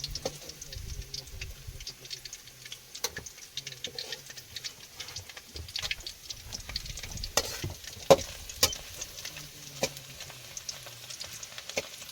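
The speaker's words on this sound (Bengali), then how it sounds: "তো এই ডাঁটাগুলো একটু ভাজা হয়ে গেছে" Vegetable stalks fry in a pan, giving a faint, steady sizzle with scattered light clicks and taps of a utensil throughout.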